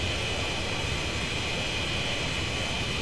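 A Citation X business jet taking off in the FSX flight simulator gives a steady, loud, broadband engine roar that holds constant and fills the whole stretch, with no voices.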